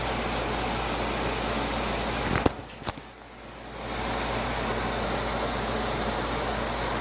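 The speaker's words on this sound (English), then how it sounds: "Little Logan loves the microwave fan, doesn't he?" A home microwave oven's fan runs with a loud, steady whooshing hum. It is briefly interrupted by a couple of sharp clicks and a short dip before resuming.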